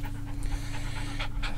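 Dogs panting rapidly and close after greeting visitors, a steady breathy rhythm over a low continuous hum, with no talking.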